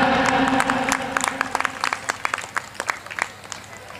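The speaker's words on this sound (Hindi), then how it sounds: "जोरदार तालियां" Audience applause at a community association's memento award ceremony, a dense burst of clapping from a seated crowd that thins into scattered individual claps toward the end, with no voices over it.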